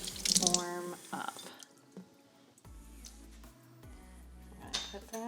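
Water poured into flour and ground cinnamon for bread dough, with a short splashing pour at the start followed by quieter drips and low thuds, while a person talks.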